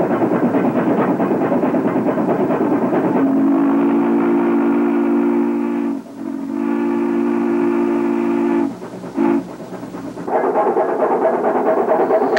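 A 1920 Baldwin 2-8-0 Consolidation steam locomotive chugs steadily and sounds a long whistle several times, with brief pauses between blasts, before the rhythmic chuffing continues.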